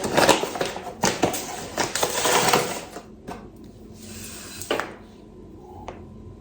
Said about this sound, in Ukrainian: Розмішуємо какао з цукром в кружці